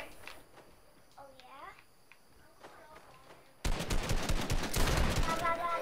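Rapid automatic gunfire in the video game Fortnite bursts in loudly partway through, dense crackling volleys continuing to the end after quieter stretches where players talk.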